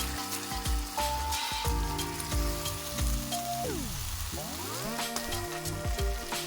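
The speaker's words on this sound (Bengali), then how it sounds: "রসুন ভাজা হয়ে গেছে, আমি এবার যে পেঁয়াজটা পেস্ট করে নিয়েছি সেটা দিয়ে দেব।" Garlic and onion paste frying in hot oil for a restaurant-style chicken masala curry, a steady close crackling sizzle that runs throughout alongside a tonal background sweep.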